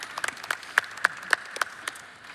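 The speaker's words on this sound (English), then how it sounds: "We should give a big round of applause for that." A panel audience gives a short round of applause, a sparse scatter of individual claps, some sharper and louder than others, fading out within a couple of seconds.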